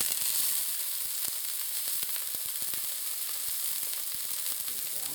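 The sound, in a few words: pork chop frying in pan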